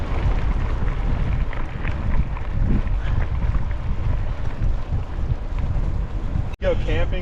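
Strong headwind roars against a cyclist pedalling slowly on a flat Montana road, a loud continuous buffeting rush on the microphone that lasts the whole stretch before a brief dropout near the end.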